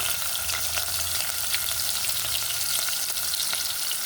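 Onions and garlic sizzle steadily in hot oil with mustard seeds and cumin, a close, continuous frying hiss with small crackles and no talking.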